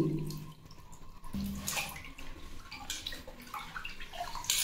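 Finger millet being washed in a bathroom, water splashing and gurgling in a bucket or tub with hands stirring the grain, close and fairly steady in a short burst.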